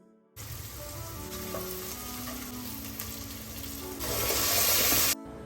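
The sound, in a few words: okra (bhindi) frying in oil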